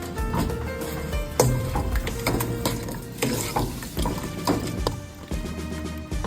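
A spoon stirs a traditional rice dessert with sugar in a cooking pot, giving steady scraping and clinking, close and continuous, with no talking.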